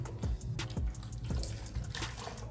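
Cold tap water runs into a sink while a wig is rinsed after conditioning, a close continuous splashing stream with a few gurgling surges and drips, with no voices over it.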